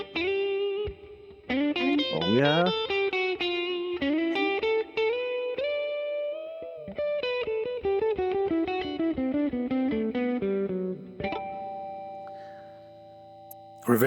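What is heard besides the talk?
electric guitar with reverb effect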